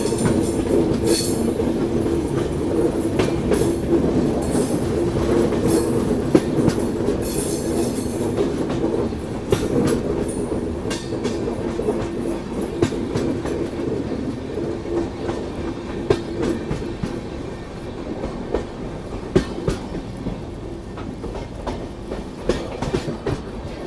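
Telangana Express rolls steadily along the rails, a loud continuous rumble with rhythmic clickety-clack of wheels over joints and occasional squeals, heard from inside the carriage for the whole stretch.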